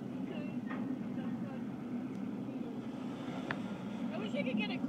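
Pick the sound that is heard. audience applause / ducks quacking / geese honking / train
train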